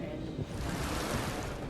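Water rushes into a Las Vegas storm tunnel, a dense, continuous roaring wash at moderate distance, steady throughout the short moment without talk.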